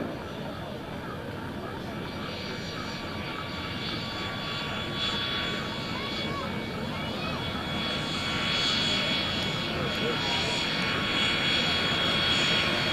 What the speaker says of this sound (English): So Alan is going to be slowing the aircraft down.